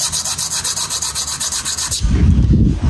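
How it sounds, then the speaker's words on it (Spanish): Rhythmic back-and-forth scraping of sandpaper against a bicycle brake pad, close up, with regular strokes; the texture shifts to a coarser, lower rasp near the end. "Entonces procedo a lijarle,"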